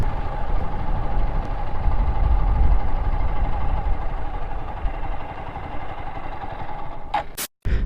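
A TVS Apache RTR 160 4V motorcycle with ABS idles steadily up close on an open road, a continuous even engine hum that cuts out briefly near the end.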